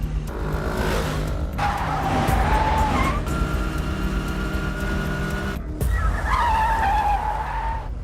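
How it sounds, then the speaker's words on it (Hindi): A scooter speeds away with a revving engine whine and tire noise, pitch rising and shifting through gear-like surges, loud and close, briefly cut before another rising burst. "भाई वो स्कूटर से भाग रहा है।"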